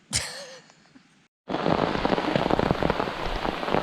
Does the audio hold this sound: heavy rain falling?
yes